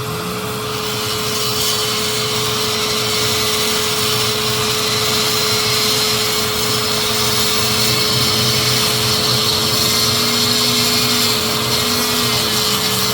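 Rotary tool carving fire agate at 6,000-8,000 RPM, a loud, steady high whine with a continuous grinding hiss, running unbroken and close without speech.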